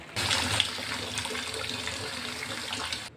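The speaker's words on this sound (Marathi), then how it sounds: "तर आपण आता स्वच्छ पाण्याने हे साबुदाणा धुवून घेऊया" Sago pearls being rinsed in clean water, a steady close wash of water swishing and splashing in a bowl with no talk.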